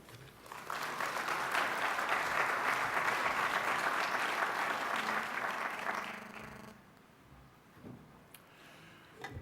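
Sustained audience applause in a conference hall greets a library director taking the stage at an academic global forum, a dense wash of clapping lasting about six seconds before fading into quiet room noise.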